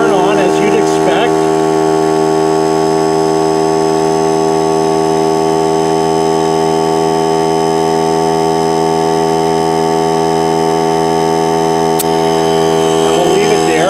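A Hyper Tough cordless tire inflator compressor runs steadily and loudly for the whole stretch, a constant motorized hum with strong harmonic buzz filling tire air, starting right at the beginning and continuing without pause.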